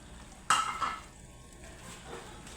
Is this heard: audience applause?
no